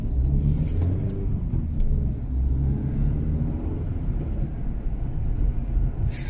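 A car drives past on a street, a close, steady engine rumble and tire roar that holds for several seconds, with no voices.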